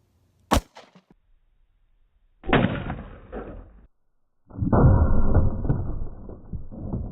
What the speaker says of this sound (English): Let's go ahead and shoot one more before I check it.